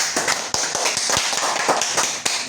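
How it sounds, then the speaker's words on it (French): Studio audience applause greeting the first guest on a French talk show, a steady clatter of many hands with sharp individual claps standing out, fairly loud and continuous with no voices over it. "applaudissements pour Jonathan"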